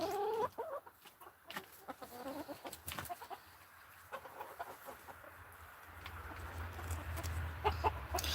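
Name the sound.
chickens clucking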